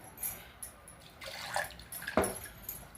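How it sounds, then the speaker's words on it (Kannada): Water is poured into a pot, splashing and trickling in short irregular bursts, with a brief louder gush near the end. "ಸಾರಿನ ನೀರು ಕಟ್ಟು ಬಗ್ಸಿದ್ದೆ, ಅದಕ್ಕೆ ಹಾಕ್ತಾಯಿದ್ದೀನಿ"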